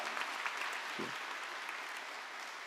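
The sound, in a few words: congregation applause in church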